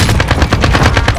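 Automatic gunfire in Call of Duty Modern Warfare, likely an AK-47, a loud close rapid burst of evenly spaced shots with no pause.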